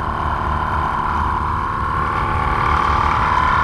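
A small two-cylinder air pump runs continuously while inflating a tire, giving a steady, close, loud mechanical whir with a dense rumbling texture and no pauses.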